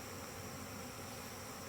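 Buzzing of a bee swarm, a steady dense drone that holds evenly throughout while the bees are gathered to be put into a hive.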